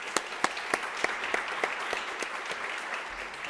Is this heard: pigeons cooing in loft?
no